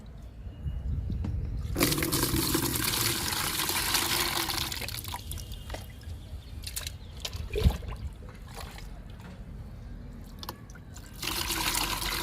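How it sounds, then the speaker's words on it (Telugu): Aloe vera liquid is poured onto potted plants, a steady splashing trickle that starts and stops in bursts, close and fairly quiet, with faint handling clatter between pours. "ఆ 4 మొక్కలకి 2 లిక్విడ్స్ని ఇచ్చేద్దాము"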